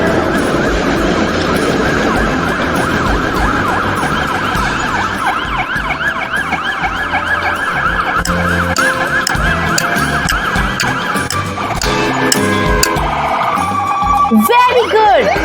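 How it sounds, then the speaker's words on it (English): An ambulance siren wails loudly and continuously, its rising and falling tone cycling steadily for the whole stretch with no talk over it. "It's ambulance."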